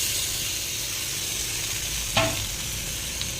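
Small fish sizzle as they drop into a pan of frying onions, a steady hiss of hot oil with a brief sharp crackle and splatter near the end.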